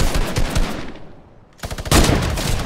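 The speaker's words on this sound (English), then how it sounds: "I just wrecked that kid! I sniped him." Sniper rifle fire in the Fortnite video game, with sharp broadband gunshot bursts near the end following a brief lull amid busy in-game noise.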